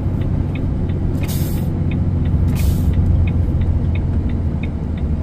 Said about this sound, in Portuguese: Ó, só no freio motor.